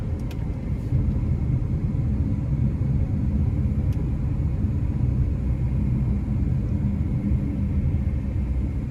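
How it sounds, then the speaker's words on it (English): A 2025 Mercedes-Benz GLB 250 in sport mode accelerates hard onto an interstate, heard from inside the cabin as a loud, steady low engine and road rumble that holds without a break and with no talking. "I'm gonna put it in a sport mode and we'll give it a run getting on the interstate here. No paddle shifters, I'm just gonna floor it."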